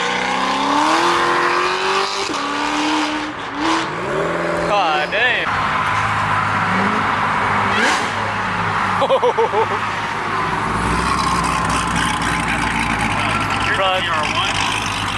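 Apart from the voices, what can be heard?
twin turbo Lamborghini Aventador SVJ accelerating and downshifting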